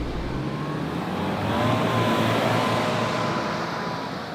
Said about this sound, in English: I'm just gonna gun it in reverse and hopefully we're gonna get ourselves out